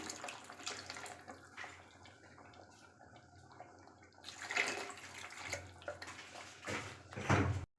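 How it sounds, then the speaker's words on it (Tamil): Water splashes and gurgles as it is poured into a pot of simmering egg curry, with clattering bursts and a louder pour near the end. "குழம்புக்கு தேவையான தண்ணி வந்து இப்போ சேர்த்துக்கலாங்க"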